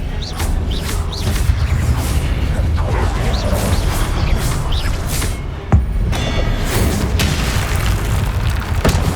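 Confringo blasting spells in the Hogwarts Legacy video game, heavy booming explosions landing amid a busy combat soundscape of magical whooshes and impacts, loud and repeated, with one sharp blast standing out near the middle.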